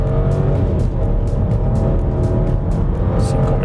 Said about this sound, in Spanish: Lo primero que voy a hacer es la aceleración, lo pongo en drive.